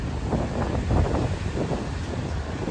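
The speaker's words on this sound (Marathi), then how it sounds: "हे बघा पाऊस जाम येतो आता." Heavy rain and gusting wind beat down outside, with the sea whipped up into waves nearby; a steady, loud broadband roar fills the whole stretch with no voices over it.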